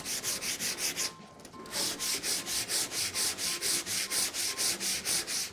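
Wooden furniture sanded by hand with fine 320 grit sandpaper: steady, fast back-and-forth rasping strokes in an even rhythm, close and fairly loud, with one brief pause early on and no talking.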